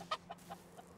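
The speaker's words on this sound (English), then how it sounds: "There's so much animals, chickens." Chickens and a rooster in the medieval farming game Medieval Dynasty, giving a few short, quiet clucks in quick succession over a low background hum.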